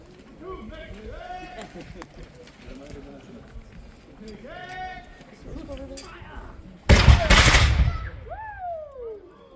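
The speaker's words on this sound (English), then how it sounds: "Now we have the British also firing in combination as they've caught up with the Jaegers" Musket volley at a Revolutionary War battle reenactment of Bound Brook, New Jersey: one loud, dense burst of gunfire mid-clip, following talk and shouting voices, with crowd voices continuing afterward.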